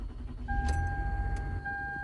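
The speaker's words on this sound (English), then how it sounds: "First thing we're going to do is start our vehicle." A 2006 Toyota Sienna minivan engine starts up into a low, close rumble, while two steady electronic chime tones sound over the idle.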